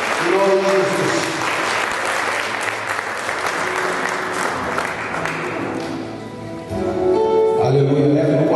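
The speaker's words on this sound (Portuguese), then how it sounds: "Se você quer, dê uma salva de palmas de glória ao Senhor." A church congregation bursts into loud, sustained applause, with dense clapping that fills the room for several seconds, dips briefly, then swells again near the end.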